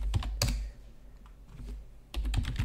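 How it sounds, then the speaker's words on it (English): Fast typing on a computer keyboard while entering commands to install a kernel on Debian, crisp clustered key clicks in two bursts with a short pause between, close and alone. "If I can type correctly, of course."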